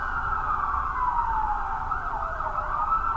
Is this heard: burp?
no